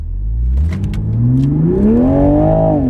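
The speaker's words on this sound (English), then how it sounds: "We're gonna do 3 really quick 0 to 60 runs and average them up to see what we can get." A Toyota Supra in sport mode accelerates hard from a standstill toward 60 mph, its engine note climbing steadily in pitch and loudness through the gears, close and continuous with a brief light clatter early on.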